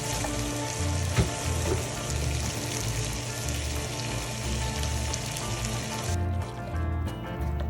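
Gobhi gosht of cauliflower and meat bubbling on high heat in a pan without oil, a continuous close sizzling hiss with a low simmering rumble as the liquid cooks down.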